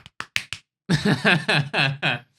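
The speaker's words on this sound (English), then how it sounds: "Maybe it's just claps." A short burst of hand claps in the rhythm of the Friends theme tune, four quick separated claps then a run of louder, closer claps, with a voice-like tonal quality suggesting someone vocalising along.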